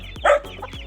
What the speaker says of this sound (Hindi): ये देखिए मुर्गी